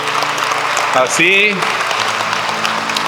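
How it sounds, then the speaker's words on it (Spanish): A church congregation applauds during a Sunday sermon, with a steady wash of clapping beneath a brief spoken word from the preacher. "dense un aplauso porque ustedes vinieron."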